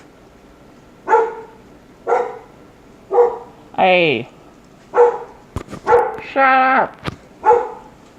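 Several house dogs bark close and loud in evenly spaced single woofs, with a rising whine and a howl-like yelp mixed in, while a person shouts at them partway through.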